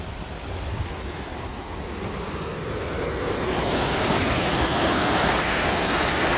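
A man-made waterfall beside a river roars as a steady broadband rush, growing slightly louder and fuller midway, with no voices over it.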